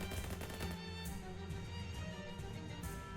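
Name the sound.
gunshot in video game Shadows Over Loathing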